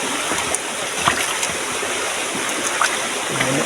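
Mountain stream water flowing steadily downhill from the mountains, a continuous close rushing wash with faint splashy ticks and no voices.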